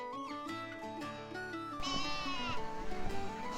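A person imitates a sheep with a wavering, nasal bleat, loud and close, sustained for a few seconds.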